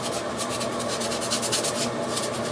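A steel wool pad rubs steadily over a plastic figure part, a close, fairly quiet scratchy sanding with quick back-and-forth strokes repeating in a brisk rhythm.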